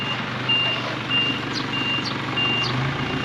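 Mini dump truck reversing at a house building site, its backup alarm giving four evenly spaced high beeps over a low engine idle, loud and close.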